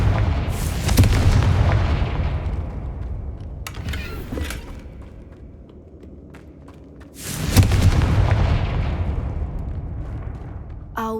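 Two deep booming blasts from the Confringo fire spell in Hogwarts Legacy, each a loud close explosion that rumbles and fades over several seconds, with a short crackle between them.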